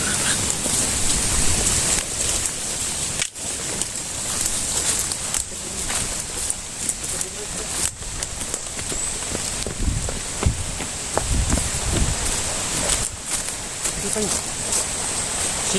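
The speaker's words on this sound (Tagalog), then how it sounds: "Lakas ng ulan guys." Heavy rain pours steadily as a dense, constant hiss, with people talking over it throughout.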